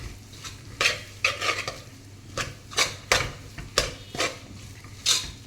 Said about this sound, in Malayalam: ഇനി എല്ലാം കൂടി നന്നായിട്ട് ഇളക്കി യോജിപ്പിക്കുക.